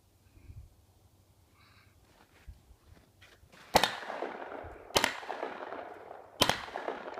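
Three sharp gunshot cracks play back from a video of a self-protection demonstration, spaced about a second apart and fairly faint over a quiet background.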